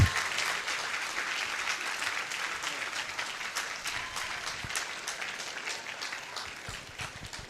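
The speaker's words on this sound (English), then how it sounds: "with a resounding round of applause, shall we welcome Professor John Nelson Bois" An audience gives a steady round of applause welcoming keynote speaker Professor John Nelson Bois at the UCC School of Agriculture 50th anniversary launch, dense clapping held throughout and slowly thinning toward the end.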